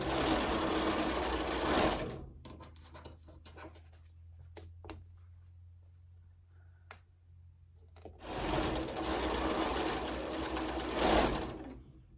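A sewing machine stitches a pressed-flowers bluebell quilt block, running in two steady bursts at the start and end with a quiet pause between, close and loud.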